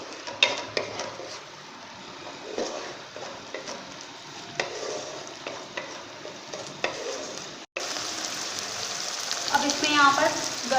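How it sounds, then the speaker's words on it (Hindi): Onion with ginger garlic paste and spices frying in a pan for chana pulao, a steady sizzle with scattered stirring scrapes and clinks, growing louder and hissier near the end. "इसको भी मैं 1-2 मिनट भूनूंगी मसाले के साथ, प्याज के साथ अपनी।"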